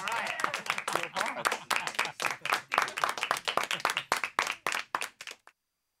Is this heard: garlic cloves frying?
no